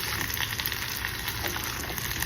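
Shrimp cook in a pan for jambalaya, giving off a steady, close sizzle and crackle of frying with small pops, continuous and even throughout.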